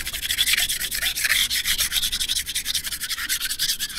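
Old paint being rubbed off a stone grave marker with paper, a steady scratchy abrasive scrubbing in quick back-and-forth strokes, close and continuous with no talking.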